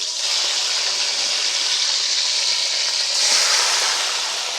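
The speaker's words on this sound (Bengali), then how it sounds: "এবার আমি এক এক করে ম্যারিনেট করে রাখা মাংস এই তেলের মধ্যে দিয়ে দেবো।" Yogurt-marinated chicken pieces fry in hot oil over a low flame, giving a steady, loud, hissing sizzle that swells slightly near the end, with no talking.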